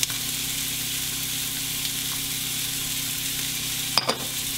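Onion and celery sizzling in oil and butter in a pan for turkey stuffing with walnuts and raisins, a continuous bright sizzle with a brief clatter of utensil contact near the end.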